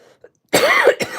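A single sharp cough, loud and close, followed by a shorter second cough after a brief pause.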